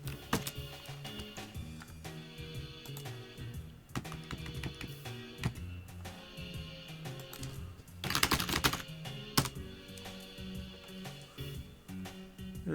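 Computer keyboard keys pressed on an Amiga setup, a steady run of close, clacking taps with irregular rhythm and a denser burst of rapid strokes partway through, with no talking.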